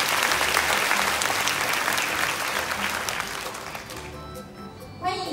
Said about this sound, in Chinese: 让我们再次以热烈的掌声谢谢所有贵宾的莅临指导